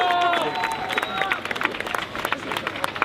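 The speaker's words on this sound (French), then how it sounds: "On applaudit." Brief scattered applause from a crowd at an outdoor activist rally in Paris, moderate and somewhat distant, with a sustained tone and murmuring voices early on.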